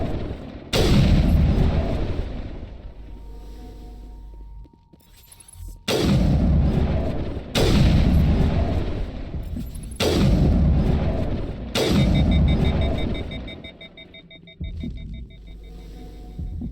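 Heavy, booming weapon fire in the Mass Effect video game, several loud blasts a second or two apart, each followed by a long rumbling decay, with a faint beeping tone between shots.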